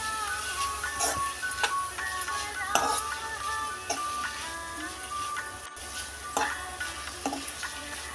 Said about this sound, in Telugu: అన్నీ బాగా కలుపుకుందాం